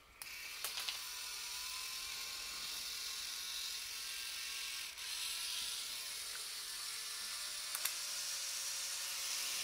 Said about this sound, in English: So that's gonna be starting up all of these lifts then.